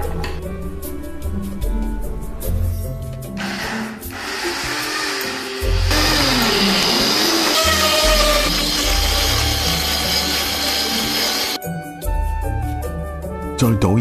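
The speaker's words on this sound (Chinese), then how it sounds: "放入榨汁机中榨汁。" Peeled, sliced old ginger chopped into small chunks whirs in an electric juicer, a steady buzzing motor grind running for several seconds over loud background music.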